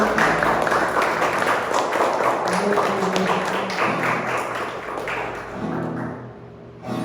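A church congregation claps hands in praise, a dense patter of claps under music and voices that gradually thins out toward the end.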